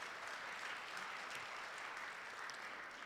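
A church congregation applauds in welcome at a service, a soft, even wash of many hands clapping that sounds faint and distant, steady throughout with no voices over it.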